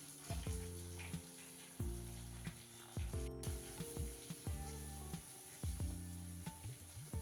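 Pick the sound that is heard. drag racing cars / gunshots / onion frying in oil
onion frying in oil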